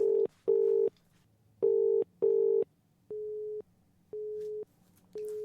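A telephone busy signal sounds while calling someone who may have sent the call to voicemail: a clear, steady tone repeating in even on-off pulses, loud and alone, with no talk over it.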